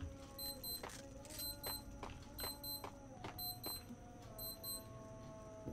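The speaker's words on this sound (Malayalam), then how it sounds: "അലാറം വെച്ച സൗണ്ടായിരുന്നു കേട്ടോ." A wristwatch alarm beeps faintly in short clustered bursts of high electronic pips, about five groups repeating at a regular rhythm over a low background hum.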